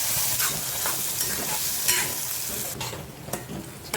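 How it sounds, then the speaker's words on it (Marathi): Two Sangameshwari chillies sautéing in hot oil in a pan for a Hyderabadi paneer masala, a steady close sizzle and crackle with occasional stirring scrapes, no talking. "दोन संगेश्वरी मिरच्या टाकल्या आहेत त्या थोड्या परतून घ्यायच्या आहेत"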